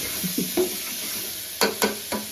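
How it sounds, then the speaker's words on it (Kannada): Tomato frying in a pan for dal khichdi, a quiet steady sizzle punctuated by a few sharp scraping stirs of a spoon against the pan. "ಇದಕ್ಕೆ ಟೊಮೆಟೊ ಟೊಮ್ಯಾಟೋ ಟೊಮೆಟೊ ಹಾಕಿ ಚೆನ್ನಾಗಿ ಬೇಯಿಸಿ"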